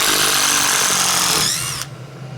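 A DEWALT 12V XTREME brushless impact driver in high range drives fasteners with a loud, close, steady whirring hammering that runs for nearly two seconds and then cuts off abruptly, leaving a quiet room.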